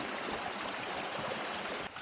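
Mountain stream on a high Bulacan peak flowing steadily as a broad, even rush of water, close and continuous for the whole stretch with no voices.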